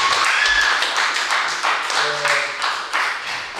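An audience at a live concert at the BAT Centre breaks into applause, with dense clapping that rises and falls in bursts. A few brief tones sound within it.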